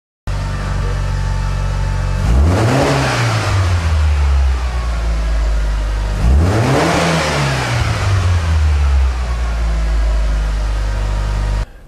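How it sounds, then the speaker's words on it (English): A car engine revs up sharply twice from idle, each burst rising and falling, with a rough, stuttering edge as the throttle is stabbed, misfiring from too little fuel. "So too little fuel, and we'll get a misfire immediately as we stab the throttle."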